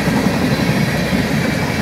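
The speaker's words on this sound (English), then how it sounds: "This is a really long train." A long northbound CN manifest freight train, with hopper cars and wheels popping, rolls past close by in a steady, loud, unbroken rumble and wheel roar, with no voices.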